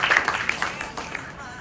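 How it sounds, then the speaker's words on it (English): Audience applause at a breast cancer awareness campaign launch, a brief burst of scattered clapping that starts fairly strong and thins out over under two seconds. "I think they deserve a big round of applause"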